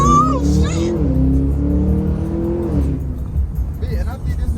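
A supercharged Cadillac Escalade V accelerates hard, its engine note climbing loud and close for several seconds before easing off, with excited voices talking over it.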